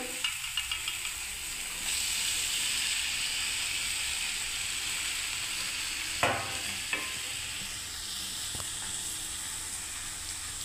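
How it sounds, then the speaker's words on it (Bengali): Mixed vegetables for a curry fry in a pan over raised gas heat, giving a steady bright sizzle. A few sharp stirring scrapes and clacks cut through, with no talking. "এবার আমি সব সবজিগুলোকে দিয়ে দিচ্ছি বন্ধুরা"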